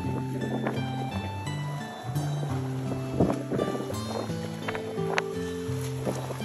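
Boat engine running steadily at sea, its drone shifting in pitch under gusting wind and open-water noise, with no voices.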